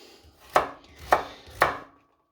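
Three evenly spaced knife chops on a board, cutting potatoes and leeks into rough dice for soup, each a crisp close thud-crack in a quiet kitchen.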